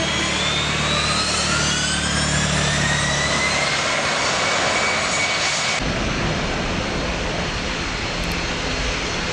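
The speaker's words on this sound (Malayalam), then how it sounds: "ലോകത്തിലെ തന്നെ അത്യാഡംബര വിമാനമായ ഗൾഫ് സ്ട്രീം എയ്റോസ്പേസ് നിർമ്മിച്ച G600" A Gulfstream G600 business jet's engines roar loud and steady, a dense broadband rumble with rising whining tones that shifts abruptly partway through, no voices.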